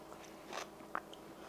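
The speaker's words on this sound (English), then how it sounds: "You hear the crunch still?" A single quiet crunch of a bite into cooked asparagus, followed by a brief crisp chew, close up with little else around.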